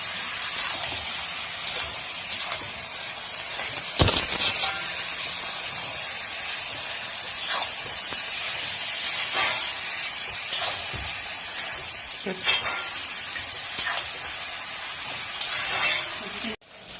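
Vegetables frying in a pan with mustard and cumin paste give a constant bright hiss, with occasional sharper pops and scraping stirs, close by and fairly loud.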